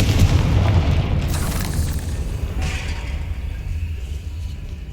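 A Confringo spell explosion in the video game Hogwarts Legacy, a loud, sustained booming blast with a rumbling low end that fades gradually over several seconds.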